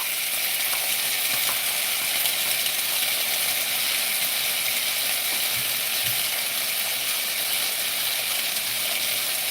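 Food sizzling in a hot frying pan: a loud, constant crackling hiss that runs unbroken from start to finish, close up, with occasional faint clinks from the cooking.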